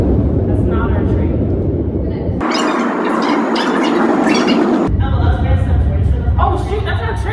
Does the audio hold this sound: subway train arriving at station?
yes